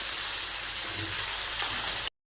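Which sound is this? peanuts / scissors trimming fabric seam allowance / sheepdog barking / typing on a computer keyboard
peanuts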